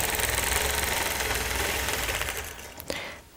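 Quilting machine stitching concentric circles along a circle template on a clamped quilt, giving a steady, close mechanical whir that slows and stops near the end.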